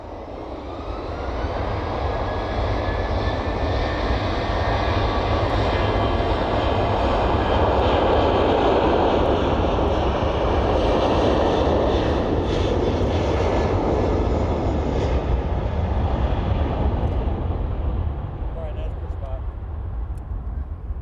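A large Antonov An-124 freighter departing East Midlands Airport, its engines producing a loud, steady, broadband roar that holds for the whole stretch with a faint tonal whine, while a voice talks over it.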